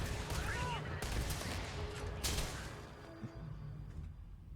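Bursts of rapid gunfire from enemies in the video game Starfield crackle in quick volleys with sharp loud cracks, dense at first and thinning out, amid game background noise.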